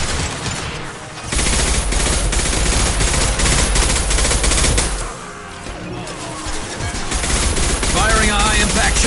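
Dense, continuous gunfire from the Mass Effect 2 video game, with loud sustained bursts that dip briefly and then resume, plus a voice speaking under the shooting.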